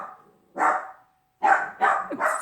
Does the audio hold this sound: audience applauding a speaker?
no